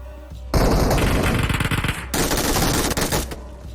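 Automatic gunfire bursts loudly in the mobile game PUBG Mobile, two dense rapid-fire volleys each lasting over a second, separated by a brief gap, with a fainter shot before them; no voices.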